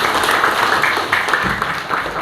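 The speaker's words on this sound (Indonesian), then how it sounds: "Tepuk tangan buat Akila." Classmates in a school classroom clap for a student after she shares her answer, a dense, steady patter of hands lasting the whole moment with some faint voices mixed in.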